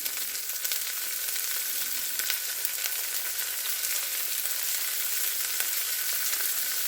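Onions seasoned with salt and pepper fry in a pan, rendered down and nearly caramelized, giving a steady, even sizzle that holds unbroken at close range with no voices.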